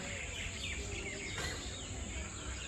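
A large flock of sparrows roosting in a tree at dusk around seven in the evening makes a dense, continuous chatter of overlapping chirps, steady and fairly distant, with no talk.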